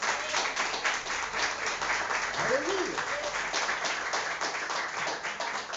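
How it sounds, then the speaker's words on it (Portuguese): A church congregation applauds in worship, steady dense clapping filling the space while a voice calls out briefly over it. "E se eu fosse você, aplaudir o Senhor."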